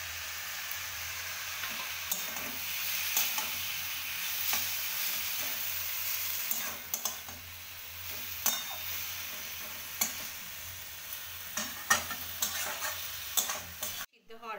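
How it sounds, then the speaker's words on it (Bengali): Marinated chicken for a street-style kati roll is stirred as it fries in a pan. A steady sizzling hiss carries irregular spatula scrapes and clinks, close and moderately loud, with no talking. "ভালো করে এবার নাড়িয়ে নেব। দেখো, ম্যারিনেট করে রাখা চিকেনটা আমি দিয়ে দিলাম।"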